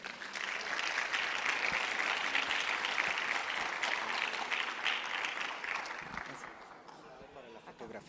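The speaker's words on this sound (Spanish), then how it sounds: "Un aplauso para ellos." Audience applause for conference participants, a sustained dense clapping from a room full of people that gradually thins and fades out toward the end.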